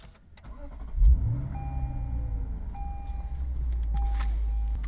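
Lexus RC F V8 cranking and firing up with a sharp burst, then settling into a steady, deep idle rumble with a faint thin whine above it, close by and without talk.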